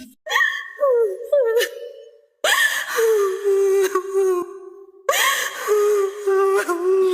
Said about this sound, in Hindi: तभी शिकारी को तहखाने में से किसी के रोने की आवाज आने लगी।